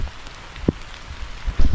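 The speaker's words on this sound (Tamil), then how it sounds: "திரும்ப மழை அதிகமாகிடுச்சு." Steady heavy rain hisses all around in a forest at Thoovanam Waterfalls, Munnar, with a dull thump and a few heavier drips closer by.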